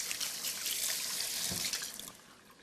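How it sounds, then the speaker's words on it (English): Running water from a kitchen tap splashes steadily as hands are scrubbed with soap, a close, continuous rush that softens and tapers off near the end. "So use soap and water and really wash those hands well."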